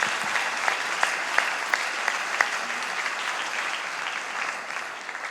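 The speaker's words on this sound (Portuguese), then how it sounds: "Podemos aplaudir" Audience applause during an interview with a pastor, a steady even wash of clapping from many people with a few sharper individual claps standing out, easing off toward the end.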